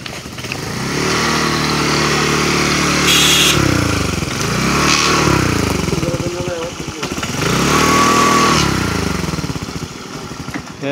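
A motorcycle engine revs and surges in several swelling waves, near and loud, falling back to a rough idle between revs as the bike is brought to a parking spot by a river.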